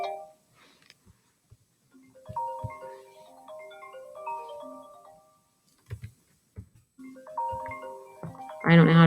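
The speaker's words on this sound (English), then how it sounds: "There's my phone." Phone ringtone plays a stepped electronic melody, pausing and resuming several times, fairly close and clear in a quiet room, ending with a louder burst.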